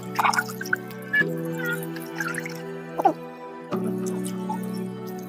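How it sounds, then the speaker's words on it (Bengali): Water trickles and drips in short, uneven bursts as soil is rinsed off the roots of an adenium plant during repotting, faint and close over steady background music. "একটু জল দিয়ে পুরোপুরি ধুয়ে ফেলতে হবে শিকড়গুলোকে"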